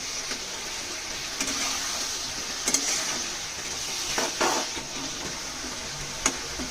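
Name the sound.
stir-frying spice paste in a pan for rohu fish curry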